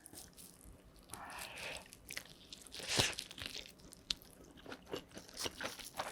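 Crunchy bites and chewing of Pizza School mala chicken pizza, close and fairly quiet, with irregular crisp crunches and one louder bite near the middle, and no talking.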